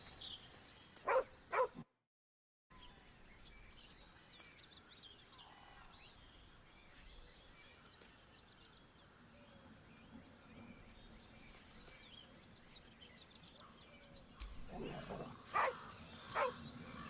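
A dog in the video game Baldur's Gate 3 barks and growls in short bursts near the start and again toward the end, with a quieter ambient stretch between them and a voice speaking.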